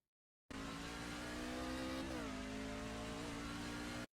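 Race car lapping North Wilkesboro in iRacing, a loud steady in-car engine whine with layered harmonics that dips briefly as the throttle eases, then holds level before cutting off abruptly.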